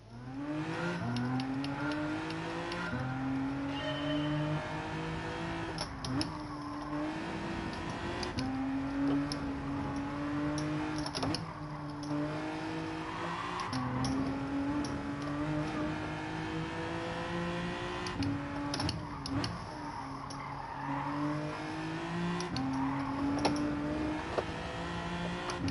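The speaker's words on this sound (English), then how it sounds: "Rev it out." A Hyundai car engine in the racing game Gran Turismo 7 revs repeatedly, its pitch climbing through each gear and then dropping at every shift in a steady rhythm, loud and close throughout.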